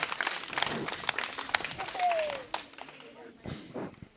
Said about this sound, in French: Applaudissez pour les éducateurs de Djibonker